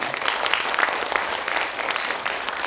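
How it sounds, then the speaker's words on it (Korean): An audience at a literary award ceremony claps steadily for a prize winner, crisp, dense applause in a hall that stays even and fairly loud throughout. "먼저 박수 한번 부탁드리겠습니다"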